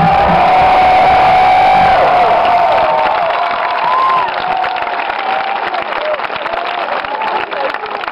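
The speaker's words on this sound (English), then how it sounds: "want you to give them a fucking round of applause" A big rock festival crowd cheers, whoops and applauds loudly, with a roar that eases slightly toward the end while a few voices shout above the clapping.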